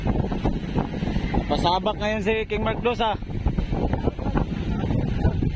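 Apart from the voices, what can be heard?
strong wind at sea on a boat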